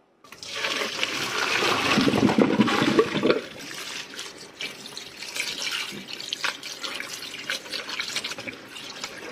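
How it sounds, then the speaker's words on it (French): Cooked noodles for a satay Chinese fondue rinsed under cold running water: a loud gush of tap water for about three seconds, then a softer steady trickle and splashing in a sink. "on va les passer à l'eau froide pour arrêter la cuisson et éviter qu'elle colle"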